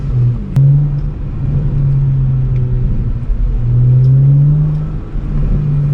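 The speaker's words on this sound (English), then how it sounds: "Lovely burbles. I really think this could do with an exhaust" A stage 1 tuned BMW 335i engine idles and burbles up close with a low, throbby rumble, rising and falling gently as it revs lightly a couple of times.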